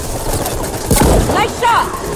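Gunfire from the Mass Effect 3 video game comes in a couple of loud, close bursts in a busy combat scene, with a voice calling out over the shooting.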